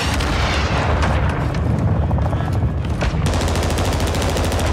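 Rapid gunfire from a gun in Call of Duty Modern Warfare 2 (2022) invasion mode, loud and continuous, with dense bursts of shots that grow sharper and quicker near the end.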